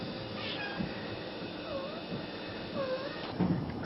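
A one-week-old kitten named Lucky meowing, several thin high-pitched mews spaced a second or so apart, close and fairly faint over a low background rumble.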